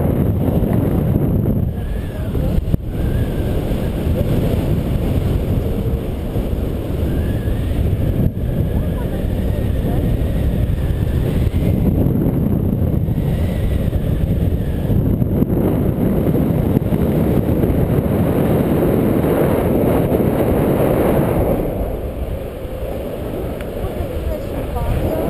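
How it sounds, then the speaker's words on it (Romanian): Heavy wind buffeting the microphone during a paragliding flight, a loud, steady low roar for most of the stretch, easing slightly near the end, with voices talking faintly beneath it. "vocile noastre poate că nu o să se audă prea bine din cauza vântului"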